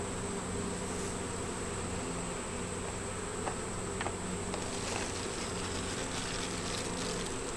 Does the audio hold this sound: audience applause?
no